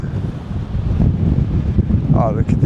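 Strong wind buffets the microphone high up on the Malahat SkyWalk on Vancouver Island, a steady loud low rumble that continues through the whole clip, with a brief faint higher tone near the end.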